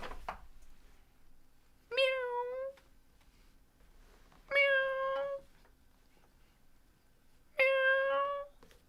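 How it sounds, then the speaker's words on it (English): Three sharp cat meows, evenly spaced about two and a half seconds apart, each crisp and tonal over a quiet hum, played as a super sticker sound effect during a live stock market and crypto stream. "But, Paul, thank you very much for making that cat meow."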